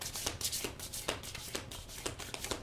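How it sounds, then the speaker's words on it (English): Tarot cards being shuffled by hand, a quick run of soft riffling slaps and flutters at close range, fairly quiet, with no talking. "I'm still shuffling, right?"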